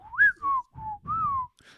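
Whistled voices of the Clangers from the TV series: four sliding, sing-song whistle phrases that rise and fall like speech intonation, close and clear, with no talking.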